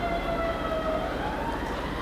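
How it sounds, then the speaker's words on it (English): A distant emergency siren wails steadily across a quiet residential stay-at-home setting, its faint tone gliding slowly over a constant low background hum with no talking. "I hear a siren."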